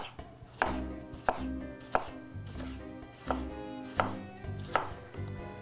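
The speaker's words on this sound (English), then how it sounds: "I'm going to put a tomato, a couple chunks of tomato in there. We'll just slice those up." A knife chops a tomato into small pieces on a cutting board while chili relleno bites are prepared, giving about eight sharp, evenly spaced knocks close to the microphone with no talking.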